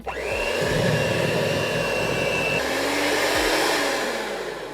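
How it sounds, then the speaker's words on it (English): An electric mixer on its lowest setting beats spiced vegan sponge cake batter, a loud, steady whirring motor hum running close and continuous for several seconds with slight shifts in pitch, no speech. "No, I'm going to do it with the mixer, just on the lowest setting."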